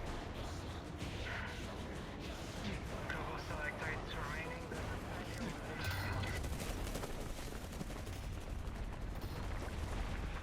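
Rapid bursts of gunfire from a VR shooter game rattle steadily for the whole stretch, a dense fusillade under ongoing voices talking nearby.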